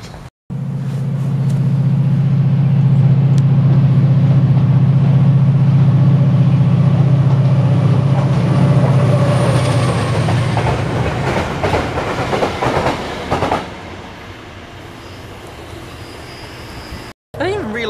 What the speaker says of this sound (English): I didn't even realise they were allowed to use the old Transpennine trains at the front.